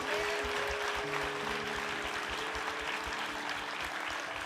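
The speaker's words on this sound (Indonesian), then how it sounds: "Kau dengar Tuhan suara tepukan tangan kami." A worship congregation claps in a steady, fast rhythm, loud and close, with sustained music tones running underneath and no clear talk.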